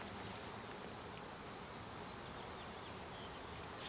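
A honey bee swarm buzzes in a dense, continuous drone, close and steady throughout with no voices.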